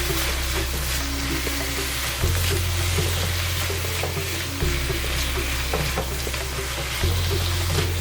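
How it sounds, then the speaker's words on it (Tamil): Pieces of pumpkin tossed with turmeric and salt sizzle loudly in hot oil, a steady close crackling fry with faint stirring scrapes and a low hum shifting every couple of seconds. "மஞ்சத்தூள்லையும் உப்பும் போட்டு ஒரு நிமிஷம் இந்த எண்ணெயிலே ஃப்ரை பண்ணி"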